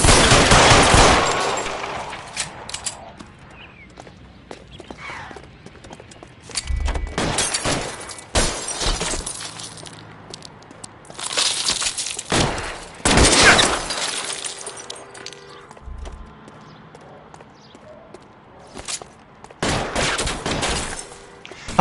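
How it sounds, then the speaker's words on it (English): Gunfire crackles through a shootout in the video game L.A. Noire, with repeated loud bursts of rapid shots and volleys separated by short lulls, plus occasional breaking-glass crashes. "Suppressing fire!"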